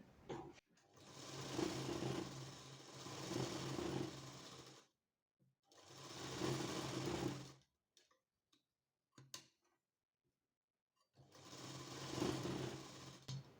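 A sewing machine stitches the neckline of a blouse in three sustained runs of fast, even mechanical ticking and whirring, close up, with quiet pauses and a few small clicks between runs.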